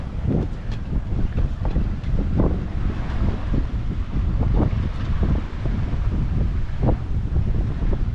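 Strong wind of about 15 knots buffets the microphone continuously on a sailboat, with gusty rumbling and water sloshing against the hull underneath.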